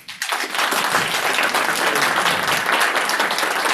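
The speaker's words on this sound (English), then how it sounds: "All right, can we get another round of applause for ODDJOBB?" Audience at a BSides Fort Worth 2024 security conference talk bursts into applause after a brief quiet moment, dense sustained clapping filling the room at close range.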